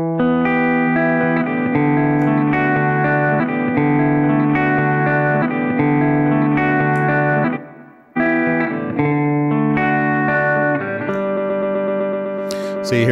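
Montreal Assembly Count to Five pedal freezing a sample's length, producing a dense, sustained layered guitar texture with repeating stutters and heavy wet effects, briefly dropping out near the middle before resuming loud.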